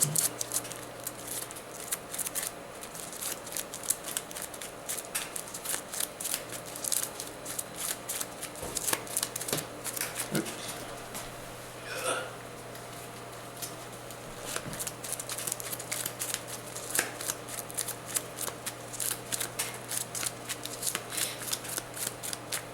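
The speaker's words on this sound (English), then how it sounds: "So over here, we just shuffle this deck back up." Close, crisp riffle shuffles of a deck of cards for a war board game, repeated in bursts of fluttering snaps with short pauses between.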